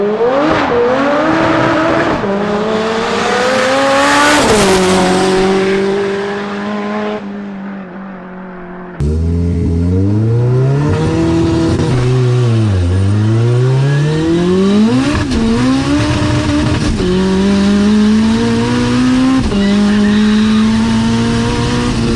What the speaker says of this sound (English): I want to get like a flyby, so Yeah, I'll start down there and come past.